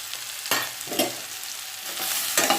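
Chopped onion and tomato pieces hitting a hot tempering with bottle gourd in the pan, bursts of sizzle and scraping stirs at about half-second intervals, close and fairly loud.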